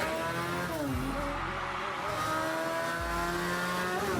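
Bathurst 12 Hour race cars at Mount Panorama scream past, engines rising and falling in pitch through gear changes and passes, loud and close with no voices.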